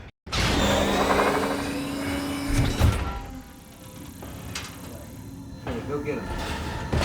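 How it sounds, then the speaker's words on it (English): An elevator in an empty city maze rumbles and rattles as it speeds up, then lands with a heavy metallic slam and a jolt, followed by lingering clanks and hum, with a voice talking over much of it. "The elevator speeds up suddenly, then slams to a stop"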